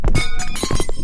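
An object breaks in the horror video game Potato Thriller, with a few sharp cracking, clinking impacts close together in a loud burst.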